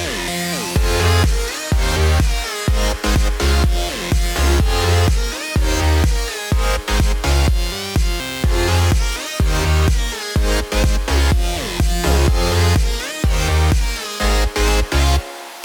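EDM track made by a 15-year-old producer: dense, loud electronic music with a pounding steady beat, synth melodies and brief drop-outs in the rhythm, playing continuously with no voices.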